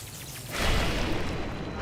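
A lightning strike crashes down in Zelda Breath of the Wild during a thunderstorm, a sudden loud boom about halfway through. Rain-like hiss and rumble linger after it.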